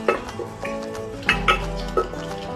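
Onions and cashews sauté in a pan, with soft clinks and scrapes of a spoon against the metal over a faint sizzle, a few sharper knocks standing out close by.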